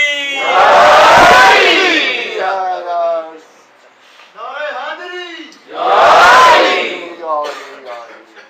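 Mosque crowd at a Muharram gathering in Rawalpindi roaring the slogan Naara-e-Haidari, two loud massed shouts separated by a single voice calling out, the second surge cutting off abruptly.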